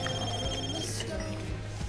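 A telephone rings over a call from a New York hospital, a steady electronic trill running throughout under people talking.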